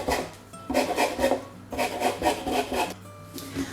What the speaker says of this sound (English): So I'm just going to take a little bit of zest off both.